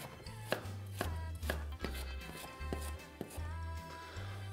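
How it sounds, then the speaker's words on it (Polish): A knife dices a peeled carrot into cubes on a cutting board for meatball soup, giving a steady run of sharp, close chops at an even rhythm, with no talking. "Potrzebuję również marchewkę obraną. Pokroję również w kostkę."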